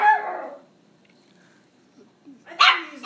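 Puppies romping in a basement give a short bark at the start and another sharp burst near the end, close and loud, with a quiet gap between them.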